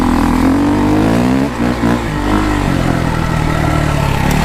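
A KTM 250EXC dirt bike engine runs loud and close during desert riding, a constant raspy drone that briefly dips and recovers with the throttle.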